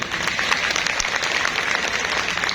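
An audience at a company meeting claps steadily, many hands forming a close, continuous patter at moderate volume with no speech over it.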